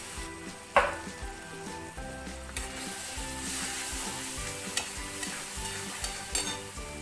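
Spice masala of chili powder, cumin and chili paste sautés in a pan for chicken bharta, with a steady sizzle and repeated scraping stirs of a spoon, fairly close with a few sharper clinks.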